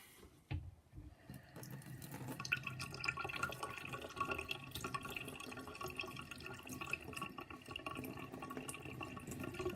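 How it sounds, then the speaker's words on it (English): Water runs steadily from a tap over a hand-forged Damascus knife blade, a continuous close splashing rinse with small drips and clinks, starting after a brief quiet moment. "So I'll give this a rinse with water first."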